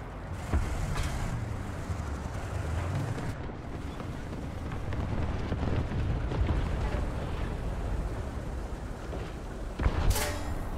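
Tank cannon fire in War Thunder around a Panther, a rumbling battlefield bed of engine noise and distant blasts, with a sharp, loud cannon shot standing out near the end.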